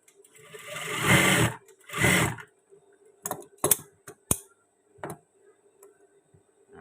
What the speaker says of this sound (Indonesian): Ini kita jahit terlebih dahulu.